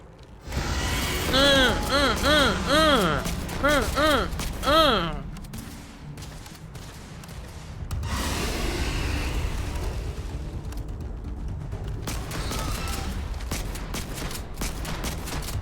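Old Earth shotgun firing in Starfield, several heavy booming blasts in the first few seconds over rising and falling game tones, followed by rumbling combat noise and scattered impacts.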